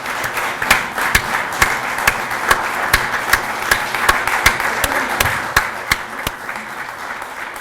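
Audience applause for Greg Shank at an automotive dealership's awards event, a steady wash of many hands clapping with sharp individual claps standing out, sustained and moderately loud with no talking.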